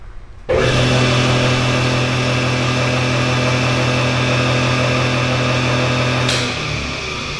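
A Ritter R30 triple shaper's front 7.5 horsepower spindle starts abruptly and runs with a loud, steady machine hum and whine, holding constant before easing slightly near the end.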